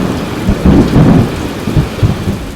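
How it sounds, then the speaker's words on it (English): Thunderstorm in Texas with steady rain hissing on surfaces and low, rolling rumbles of thunder swelling and fading throughout, loud and close, no voices. "a thunderstorm that only Texas could cook up"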